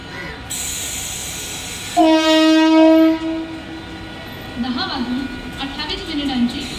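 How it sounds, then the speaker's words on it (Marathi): A Mumbai slow local train bound for Parel pulls into platform 2 at a railway station. Its horn gives one loud, steady blast lasting about a second, and station announcements and platform chatter continue underneath. "परळला जाणारी धीमी लोकल थोड्या वेळा प्लॅटफॉर्म क्रमांक 2 पर येत आहे"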